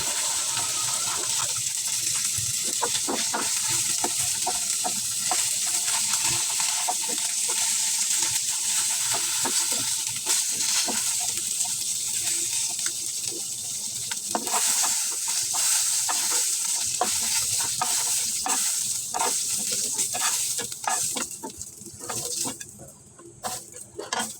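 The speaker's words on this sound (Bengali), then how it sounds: "প্যানে আরেকটু তেল দিয়ে আমি পেঁয়াজ কুচিগুলি ছেড়ে দিলাম" Oil sizzles and crackles steadily as chopped onions fry in a pan while a utensil stirs and scrapes now and then, close and continuous, fading near the end.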